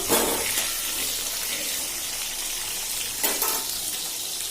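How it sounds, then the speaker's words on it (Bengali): Potatoes frying in hot oil in a home kitchen give off a steady, loud, broadband sizzle that holds throughout, with a brief burst of stronger crackle near the end. "আলুগুলো ভেজে নেবো।"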